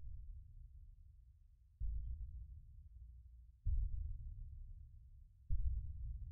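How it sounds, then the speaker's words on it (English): Slow, low heartbeat throbs in a VRChat horror hotel world, three heavy pulses each followed by a droning rumble, steady and close with no talking. "I heard heartbeat."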